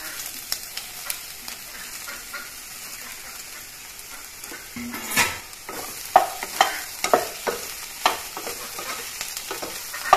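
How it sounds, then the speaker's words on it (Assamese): Soybeans fry with onions in a pan, giving a steady sizzle, then clattering stirs and scrapes of a spoon repeat close by toward the end. "ইয়াতে এতিয়া মই সয়াবিনখিনি দি দিম।"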